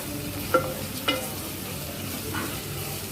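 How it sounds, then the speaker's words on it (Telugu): Ginger garlic paste frying with browned onions in oil for a restaurant-style chicken curry sizzles steadily, broken by a few sharp spoon scrapes and stirs against the pan. "1 స్పూన్ అల్లం వెల్లుల్లి పేస్ట్ వేసుకోవాలండి. ఇప్పుడు బాగా వేయించాలి"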